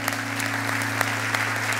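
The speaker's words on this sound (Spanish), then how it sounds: "dale un aplauso al Señor." Church congregation at an anniversary service clapping together, rapid dense applause from many hands over a steady low hum from the room.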